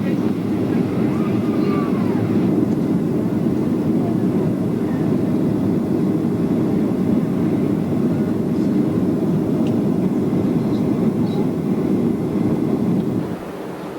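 Loud, steady broadband roar inside an airliner cabin during the landing approach, constant throughout, with faint speech in the background before the noise drops at the very end.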